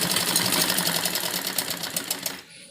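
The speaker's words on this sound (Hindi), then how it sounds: "पूरे दोनों पीस हमें मिलाकर सिलाई लगानी है।" A sewing machine stitches two pieces of heavy suit fabric together, a fast, close, continuous whirring rattle of the needle that runs for over two seconds and then cuts off abruptly.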